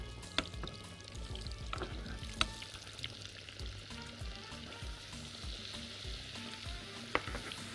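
Butter, a spoonful of oil and flour cook together in a pan, a quiet, close sizzle broken by occasional clicks and scrapes of a stirring spoon, with no talk.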